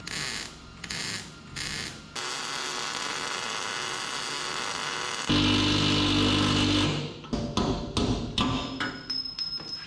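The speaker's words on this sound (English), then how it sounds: "Turn that welder up hot, quick little zap, melts her in nice" Short bursts of welding on the sheet metal of a 1963 International Loadstar truck, crackling zaps broken by gaps and a louder sustained stretch in the middle, with a few knocks near the end.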